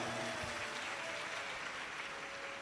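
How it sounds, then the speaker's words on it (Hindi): An audience at a Shiv Mahapuran katha religious gathering claps loudly and continuously, with dense sustained applause filling the space and no pauses. "एक बार बेटी के लिए जोरदार ताली बजाओ।"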